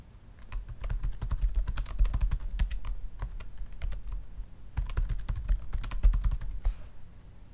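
Fingers tap a password on a computer keyboard, a steady run of close, crisp key clicks with a short pause midway, then more typing, no voices.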